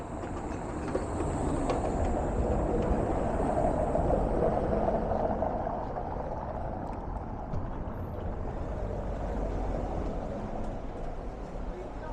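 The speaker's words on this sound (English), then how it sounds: "we took the tram up here to Prague Castle" A Prague tram rumbles along on its ride up to Prague Castle, heard from inside as a steady low roll with wheel noise and a faint high whine. The sound stays constant throughout.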